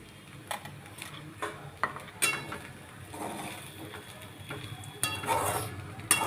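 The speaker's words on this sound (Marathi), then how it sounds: "आता आपण शेंगदाण्याचे कूट असे टाकून परतून घेणार आहोत" Sago khichdi with crushed peanuts being sautéed in a pan, with soft sizzling and repeated scraping, stirring strokes of a spatula against the metal, close and intermittent.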